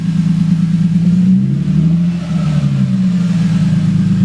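Lexus IS300 fitted with a DNA aftermarket exhaust revs steadily up close, a loud, continuous low engine drone that swells and dips slightly across a few seconds with no talking over it.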